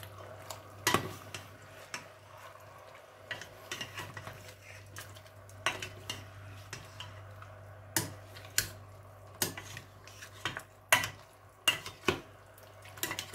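A utensil stirs food in a boiling pot, with repeated light clinks and scrapes against the pot at an irregular pace over a low, steady background hum, close by.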